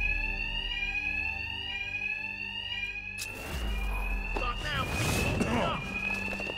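An alarm rings on and off in the video game Batman: Arkham Knight, a steady electronic tone with a voice speaking over it and game sounds rising as it goes on.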